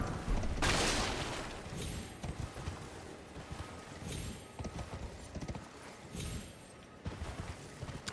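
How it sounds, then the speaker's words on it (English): Torrent, the spectral horse in the video game Elden Ring, gallops with rapid, steady clip-clop hoofbeats close by. A brief whinny and faint game sounds sit in the background. "Torrent is being the usual horse shenanigans that you'd expect out of a Torrent"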